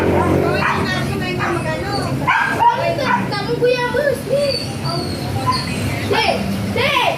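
A Chow Chow barks in short yips amid a busy outdoor scene, with people talking and children's voices throughout; the barks are moderately close and intermittent.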